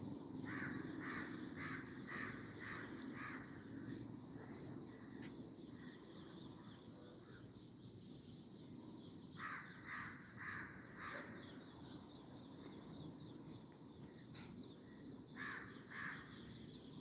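Crows caw repeatedly in bursts on a calm early morning outdoors, some calls near and some farther off, over a steady low background hum with a few other birds faintly mixed in.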